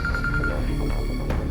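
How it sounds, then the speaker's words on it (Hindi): A telephone rings in a household scene, a short series of rapid electronic tones pulsing evenly at the start, set against a loud, busy background of music and sound. "अरे वाह, लड़के वालों के घर से फोन"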